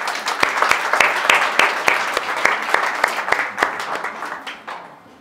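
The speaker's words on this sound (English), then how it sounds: "I'd like you all to give them a round of applause" A crowd applauds steadily, with many hands clapping densely throughout, then gradually thinning and fading toward the end.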